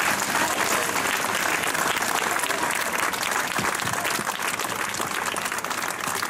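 Steady, dense applause fills the air at a sit-in protesting the closure of a youth centre in Carbonia, a crowd clapping continuously and fairly close for several seconds.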